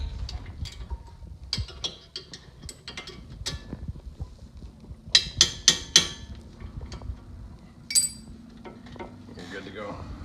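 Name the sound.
tapping brake pad into place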